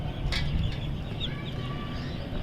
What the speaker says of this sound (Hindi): ये प्रमोज मुर्गी है और ये चूज़ा